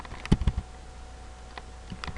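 Keystrokes on a computer keyboard while entering a status update, a quick cluster of clicks early on, then a pause and a few scattered taps near the end, close and fairly quiet.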